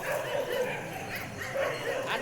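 Several dogs bark and yip in a noisy village setting at daybreak, with repeated short barks blending into a busy background where voices are also heard.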